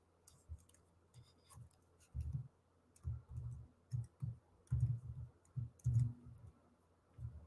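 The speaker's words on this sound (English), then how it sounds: "I'm typing up a thing before I forget." Keys on a computer keyboard tapped in irregular clusters of soft clicks, close and quiet, with no one speaking.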